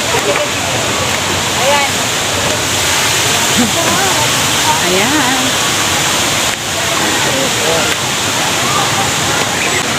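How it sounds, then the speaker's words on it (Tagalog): Steady loud rushing water from a waterfall roars continuously across the whole clip, broadband and unbroken, with a person's brief voice faintly underneath. "Naririnig niyo pa yung lagaslas ng tubig doon galing sa falls."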